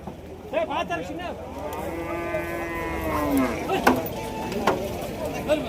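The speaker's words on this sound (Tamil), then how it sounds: "அந்த சைடு பார்த்தீங்கன்னா HF மாடு அதிக அளவில் கட்டியிருப்பாங்க." Cattle at Kundadam cattle market, including HF cows and meat cattle, low drawn-out moos rising from the crowded yard amid a steady background murmur and occasional knocks.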